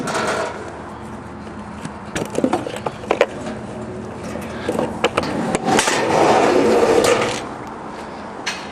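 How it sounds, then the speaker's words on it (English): The 5-foot exterior storage door on a 2014 Arctic Fox 811 truck camper is handled, giving a few close hollow thumps and knocks and a scraping slide, followed by a louder rushing swell near the end. "Another neat feature on the Arctic Fox 811 is the 5-foot storage door."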